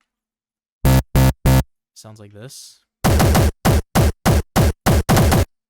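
A Frenchcore punch kick sample played back in Ableton: three loud, distorted kicks, a short spoken phrase, then a rapid run of about nine more punchy hits.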